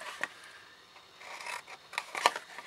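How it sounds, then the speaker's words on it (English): Scissors cutting cardboard squares away from the sides of a paper explosion gift box, a few quiet snips and rubbing scrapes close by with no talking. "come in with your scissors and cut away the outer 3 squares on"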